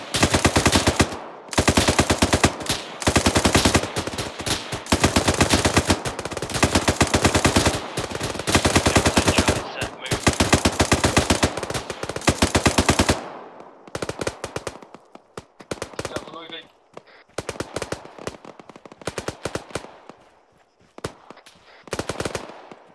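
Rapid automatic gunfire from a military shooter game, ArmA 3, rattling in long dense bursts for about thirteen seconds, then breaking into scattered shorter volleys and single shots with quieter gaps.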